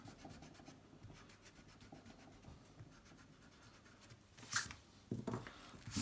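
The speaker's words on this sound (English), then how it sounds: "Just rub out the internal lines now." An eraser rubs across paper to remove internal pencil lines from a drawing, a faint, steady scrubbing with quick rhythmic strokes that swell into a few louder scratchy bursts near the end.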